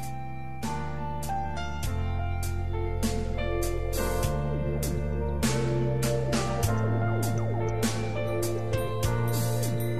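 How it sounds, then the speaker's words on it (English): A luxury wristwatch minute repeater chimes the time in a run of bright, ringing metallic strikes, shifting between lower and higher gong tones, each note lingering close up. "That's the sound of a minute repeater,"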